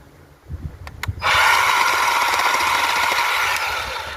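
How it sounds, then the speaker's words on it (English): After a few small knocks, a Baur chainsaw roars to life and bites into a branch, holding a loud, steady, buzzing cut that eases slightly near the end. "Got a branch right here."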